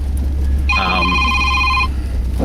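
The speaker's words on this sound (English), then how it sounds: "The old cell phone was ringing." An old cell phone rings inside a heavily customized camper vehicle, giving one loud electronic ring lasting about a second over a steady low hum.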